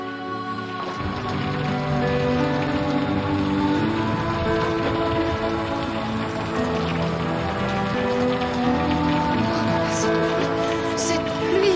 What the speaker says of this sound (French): Cette pluie, oh, regardez cette pluie.